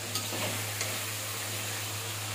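Lobster curry cooked at home in a pan gives off a soft, low sauté sizzle with a couple of light stirring scrapes near the start, over a steady background hum.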